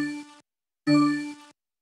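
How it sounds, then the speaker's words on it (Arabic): The MSN Messenger contact online notification sounds as two soft chiming electronic tones, a short one followed by a slightly longer one after a brief gap, clean and alone. "وكنت تسمع احلى صوت اول لما حد يجي اونلاين"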